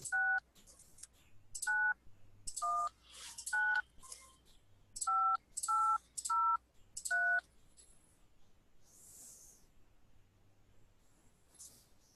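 Telephone keypad DTMF tones enter an account number on an automated Asia Miles airline phone line: about nine crisp beeps in quick uneven succession, each short and clear over quiet line hiss, then silence.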